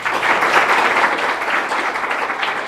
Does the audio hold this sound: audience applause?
yes